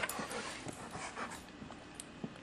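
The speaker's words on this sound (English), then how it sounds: "That's a dog." A dog pants in quick, faint, uneven breaths close by, with a few soft whimpers mixed in.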